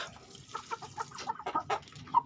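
Chickens on a poultry farm cluck in a quick irregular series of short calls, moderately close and alone without talk.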